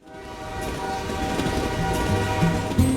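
A train rumbles past with its horn sounding in repeated low blasts, the rolling rail noise building steadily as the sustained horn tones grow louder toward the end.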